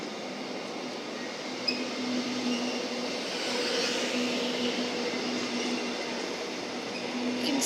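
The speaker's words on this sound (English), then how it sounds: "there's a V-Line train going over the viaduct" A V-Line train crossing a viaduct in Melbourne, a steady rumble and rolling rail noise that holds for several seconds at a distance, with no voices.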